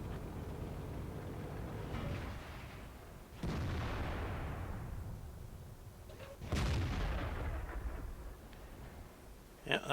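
Tank cannon shots from an FV4202 British medium tank in World of Tanks, three loud booming blasts with decaying rumble at irregular intervals over a steady engine drone, plus a faint crack at the end.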